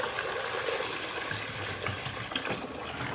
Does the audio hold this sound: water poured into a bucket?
yes